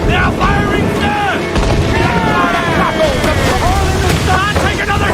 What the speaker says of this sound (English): They are firing, sir!